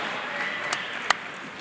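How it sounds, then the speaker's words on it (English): Crowd applause for two boxers after a six-round fight at a boxing show, a brief, moderate burst of clapping with a couple of sharper claps standing out. "how about a nice round of applause for both these young men tonight?"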